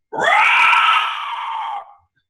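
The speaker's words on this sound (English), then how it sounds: "you hear a haunting, ear-piercing shriek ring out through the sky" A single loud, piercing shriek rings out from the sky, a drawn-out scream-like cry that swells quickly and then fades over about two seconds with no talking underneath.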